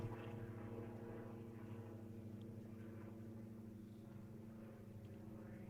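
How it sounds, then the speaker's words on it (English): A small plane from a nearby community airport drones overhead, a faint, steady propeller hum with layered low tones that holds evenly throughout, with no talking. "Excuse the rudeness of the plane flying overhead,"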